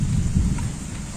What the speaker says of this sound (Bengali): অনেক বাতাস, ঝিরি ঝিরি বৃষ্টি